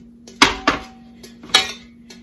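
A metal bundt cake pan being greased, heard as a few sharp metallic clanks and knocks spaced unevenly over about two seconds, close and fairly crisp against a quiet background, with a faint steady hum beneath.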